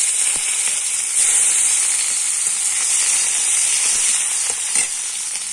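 Onion frying in oil in a wok for a tomato fish curry, a steady loud sizzle with occasional soft stirring knocks, close and continuous with no talk.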